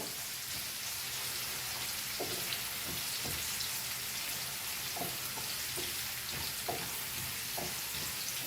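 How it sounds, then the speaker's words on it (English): Food sizzles steadily in hot deep-frying oil, a continuous crackling hiss with occasional soft stirring clicks, close and even throughout. "So let's fry this."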